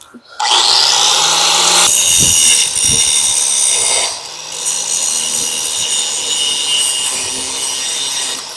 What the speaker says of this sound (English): There's a pretty big weld that needs cut down. I'm going to get that ground off while he does that.